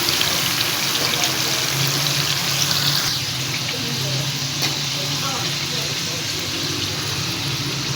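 Chicken frying in a pan with leftover yogurt masala marinade added, a loud continuous sizzle and bubbling with a few stirring scrapes, close up.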